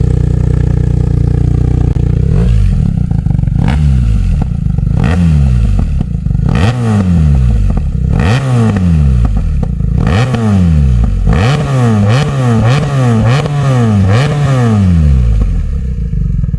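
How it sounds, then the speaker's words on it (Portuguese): A BMW GS 1250 boxer twin engine runs close and loud, idling briefly and then revving in a series of rising and falling blips that come faster toward the end. "Ouça o som de uma GS 1250."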